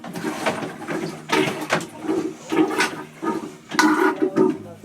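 A marine toilet (crew head) aboard a sailboat is pumped by hand, giving a series of rhythmic sloshing, gurgling strokes roughly every half second, close and moderately loud.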